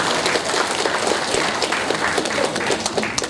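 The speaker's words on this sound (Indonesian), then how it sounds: "Tepuk tangan untuk salam merdeka kita." An audience at a PA GMNI alumni gathering breaks into dense, sustained applause following a rousing merdeka greeting, the clapping steady and full throughout with no voices on top.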